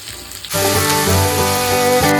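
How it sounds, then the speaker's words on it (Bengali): Chopped tomatoes with a little salt frying lightly in oil for chana dal, a quiet start that gives way to a loud, steady sizzle and crackle. "হালকা করে ভেজে নিচ্ছি"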